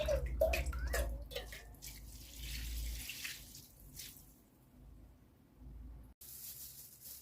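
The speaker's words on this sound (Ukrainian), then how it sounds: "Охолоджений русіл виливаю в капусту." Cooled brine trickles and splashes onto shredded cabbage for a winter salad, faint liquid pouring and dripping in bursts at first, then a quieter steady flow, close and soft.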